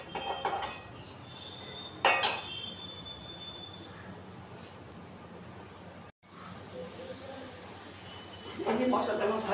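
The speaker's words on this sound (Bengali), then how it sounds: "এই দিয়ে আমি এখন মশলাটা দিয়ে মাছটাকে ভালো করে কষিয়ে দেবো।" Prawns sizzle and get stirred in a pan of frying onion, garlic and chilli paste, with metal utensil scrapes and clanks against the pan and someone talking throughout.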